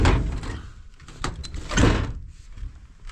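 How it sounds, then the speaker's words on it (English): Knocking on a door, a few firm raps with pauses between them, heard close and fairly loud with no talking. "So I'm knocking here. Look the door."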